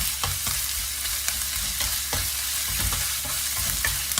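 Pork tenderloin stir-frying in a pan with pumpkin dish ingredients, a steady hiss of sizzling oil broken by repeated scraping knocks of the spatula every half second or so, close and alone.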